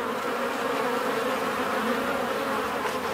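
Honey bees buzz at their hive in a dense, continuous drone, close and steady throughout.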